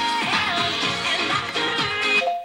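Music from Hungarian station Petőfi Rádió playing through a Kenwood car stereo, a steady stream of tuned, melodic sound at moderate loudness with no voice over it, cutting off abruptly at the end.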